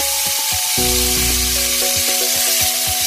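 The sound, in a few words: shrimp searing in a pan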